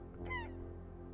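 A seagull in the Esoteric Ebb video game gives one short, faint honking call with a rising, wavering tone over a low steady hum.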